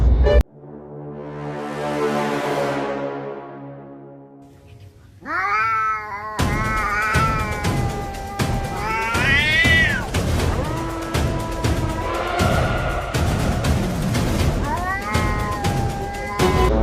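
A cat meows repeatedly in a playful squabble, with rising, stretched cries and yowls over a loud, busy background of music-like tones and clatter, with no speech.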